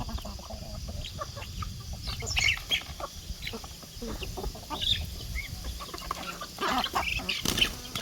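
Chickens on a farm in the early morning, with scattered clucks and a few sharper calls from the flock over a low, steady farmyard background, moderately close.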